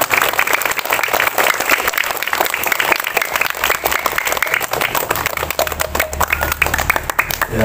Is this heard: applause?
yes